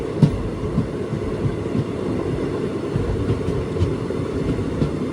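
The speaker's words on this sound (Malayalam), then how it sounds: "മനാമധുരൈ ജംഗ്ഷനിലേക്ക് ഇതാ ട്രെയിൻ എത്തുകയാണ്" The Amritha Express rolls into Manamadurai junction, its carriages rumbling with a low, continuous drone and soft periodic clacks of wheels over rail joints, close and steady without speech.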